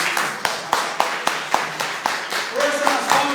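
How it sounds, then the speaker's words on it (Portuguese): A congregation at a Catholic prayer group meeting claps hands in a steady rhythmic beat, sharp regular claps roughly twice per second, with singing or voices joining toward the end. "Força nas palmas para Jesus."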